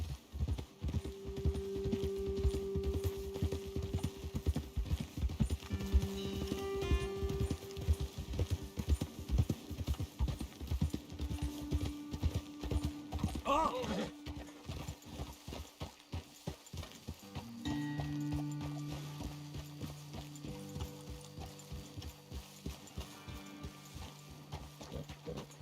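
Horses' hooves clip-clop in a steady, repeated walking rhythm on a trail in Red Dead Redemption 2, moderately close, with low music tones droning in the background throughout.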